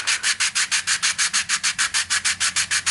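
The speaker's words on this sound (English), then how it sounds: "all of my sanding on this piece here" Steady back-and-forth sanding on a 3D printed piece, a fast, even rhythm of about seven scratchy strokes per second, close and continuous with no talk.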